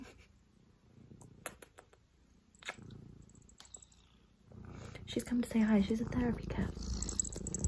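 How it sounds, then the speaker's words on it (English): A house cat purrs close to the microphone in an office, a soft continuous rumble that swells in the last few seconds while someone talks over it. "My cat in the background."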